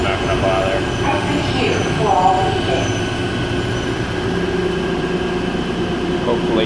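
An airport people-mover train car at Denver airport, riding at night in service mode, rumbles steadily with a low continuous drone and faint squeals, with a voice speaking briefly over it.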